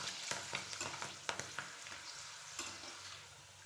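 Sabudana (sago) papad fries in hot oil with a loud, crackling sizzle, sharp pops and bubbling bursts up close, easing to a softer hiss toward the end.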